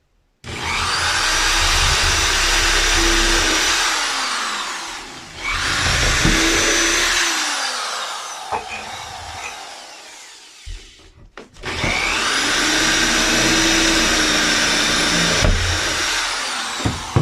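Power drill driving screws through wood into the metal framing of a converted school bus, long loud whirring runs with falling pitch as each screw seats, a short pause between, close up with no talking.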